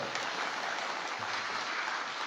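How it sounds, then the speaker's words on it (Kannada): Steady applause fills a Kannada musicians' support event, a dense, continuous crowd clapping with no voices over it. "ಅದೊಂದು ಚಪ್ಪಾಳೆ ಹೊಡಿಬೇಕು ನಮಗೆ ನಿಜವಾಗ್ಲೂ"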